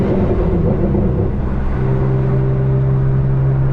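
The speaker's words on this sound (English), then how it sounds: "Come off the gas, clutch in, change gear, come off the clutch, go back on the gas, like so." A BMW M3 with a manual gearbox pulls away after a gear change, its engine a steady, loud, close hum whose pitch drops and settles into a new note partway through.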